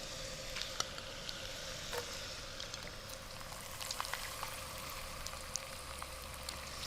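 Whole, unchopped squid fries in a hot pan with a soft, steady sizzle and scattered small crackles and pops, fairly quiet and continuous with no talking.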